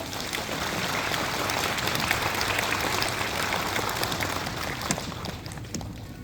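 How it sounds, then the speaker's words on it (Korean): Steady applause from a large crowd at a primary school entrance ceremony, a dense wash of clapping hands that holds evenly throughout and tapers slightly at the end. "박수로 환영해 주세요."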